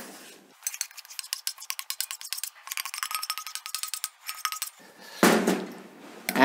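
Hollandaise sauce scraped and transferred into a bowl, with close, busy clinking and scraping of a utensil against metal and crockery, rapid irregular rattles for several seconds, then a brief louder rustle at the end.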